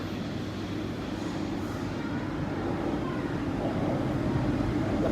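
A Hong Kong MTR metro train rumbles past at Hang Hau Station, a continuous low roar that swells slightly toward the end, with no talking.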